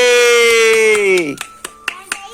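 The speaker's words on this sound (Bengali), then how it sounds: "হাততালি" Four or five sharp, close hand claps at a child's birthday while gifts are unwrapped, following a long sustained voice-like tone that slides downward.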